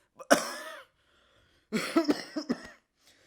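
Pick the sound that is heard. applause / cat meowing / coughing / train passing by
coughing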